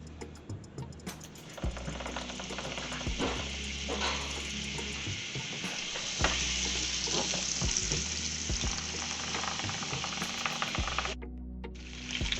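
Lamb chops sear in a pan of regular olive oil and butter, a loud, steady sizzle and crackle filling the whole stretch, with a few clanks and shifts of the pan along the way.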